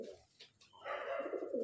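Karna pura roller pigeon cooing close by, a soft low call that starts faintly and swells into a sustained, louder throaty coo toward the end.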